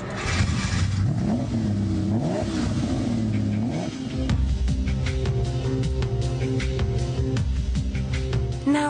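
A Ferrari 250 GT California Spider engine revs up and down, its pitch swooping and climbing in loud, continuous blips that stay close and dominant throughout.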